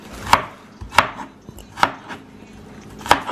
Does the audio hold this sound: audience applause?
no